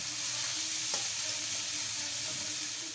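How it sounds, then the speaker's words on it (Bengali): Chopped onions with a little salt and green chili sizzling steadily in hot oil in a pan, a continuous close fry with soft scrapes of stirring and no voices. "পেঁয়াজগুলো এবার ভালো করে ভেজে নেব।"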